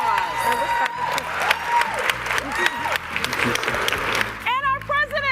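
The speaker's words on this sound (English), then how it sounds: "a round of applause." An audience rises to its feet and applauds distinguished guests at a live podcast event honoring Juneteenth, a dense, sustained clapping wave with cheers, ending as a voice speaks over the tail.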